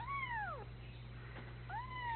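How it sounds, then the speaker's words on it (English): A young female Bengal kitten gives two clear, high descending meows separated by a short pause, close and alone against a steady low hum. "Lots of meowing."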